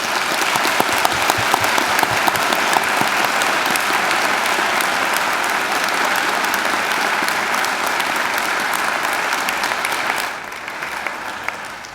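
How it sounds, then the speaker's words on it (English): Sustained applause from a large audience at a university graduation ceremony, steady dense clapping that continues for about ten seconds before thinning slightly at the end. "please join me in giving them a round of applause"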